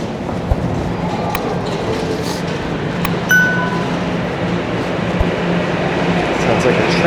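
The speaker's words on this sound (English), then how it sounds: "Sounds like a train is rolling in." Steady rumbling and rolling noise of a train pulling into a Toronto station, with occasional metallic clinks and squeals over the din.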